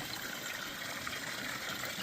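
Steady gushing water spray from a hose at a family Thanksgiving gathering, a continuous broadband hiss running unbroken and fairly loud throughout, with no voices over it.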